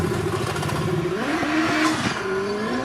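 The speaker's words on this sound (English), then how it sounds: "popping and banging and burbling as he comes through Kennel" A Formula 3-built hillclimb race car with a 1400cc engine passes through Kennel bend at Shelsley Walsh during a British Championship event, engine revving and shifting pitch with crackling pops and bangs on lift, fairly near and loud.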